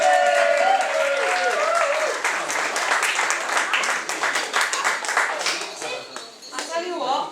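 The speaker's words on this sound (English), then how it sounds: "Big round of applause." A stage audience applauds a performer, a dense, loud wash of hand clapping that fills the whole stretch, holds steady, then thins slightly toward the end.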